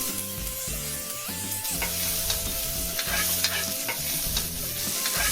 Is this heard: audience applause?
no